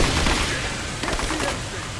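Rapid gunfire from a firefight in the video game Rise of the Tomb Raider, dense and continuous with bursts layered over a busy battle din for two seconds.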